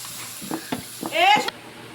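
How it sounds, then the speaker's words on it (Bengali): Crab and potato pieces are stir-fried with spices in a pan for a spicy crab curry. A few short, close scraping strokes follow one another, then a brief sizzling swish, with no talk. "কাঁকড়ার আলুটা এবারে মশলার সাথে ভালো করে আর একটু কষিয়ে নেব"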